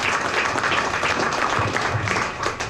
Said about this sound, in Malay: kita berikan tepukan pada rakan-rakan media kita